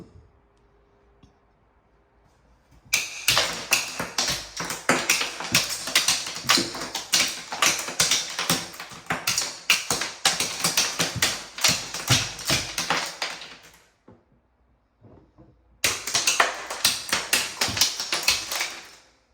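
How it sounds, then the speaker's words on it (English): Rapid light taps knocking tile spacers off the edges of freshly laid shower tile, a dense run of sharp clicks and ticks lasting about ten seconds, then a pause, then another quick burst of tapping close by. "All you have to do is ever so slightly hit the spacer on the edge."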